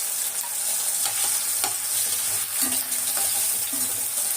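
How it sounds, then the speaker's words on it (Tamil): Potatoes fry in hot oil in a pan for a masala kuzhambu, giving a steady close sizzle broken by occasional scrapes and knocks of stirring. "அதுலேயே எண்ணெயிலே வேகணும்"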